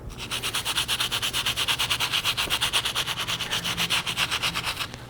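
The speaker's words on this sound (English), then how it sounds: "So let's go ahead and clean up the mid and outsole with this stiff bristle brush." A stiff bristle brush scrubs the midsole and outsole of an Adidas Yeezy 500 Blush sneaker in steady, rapid back-and-forth strokes, close and fairly loud, with no talking.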